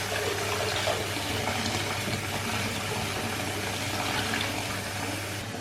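Water runs steadily from a tap over a bath item being rinsed, a continuous even splashing stream at close range with no voices.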